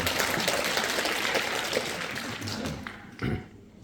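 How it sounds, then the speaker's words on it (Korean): Audience applause at a residents' briefing session on a reconstruction redevelopment plan, a dense patter of many hands that holds steady, then thins out and ends with a few final claps and a thump. "박수로 맞이해 주시기 바랍니다."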